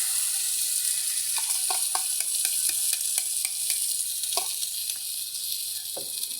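Beaten egg frying in a pan with sliced bitter gourd (ampalaya), a steady bright sizzle overlaid by a rhythmic series of spatula scrapes and taps as it is stirred, close and alone.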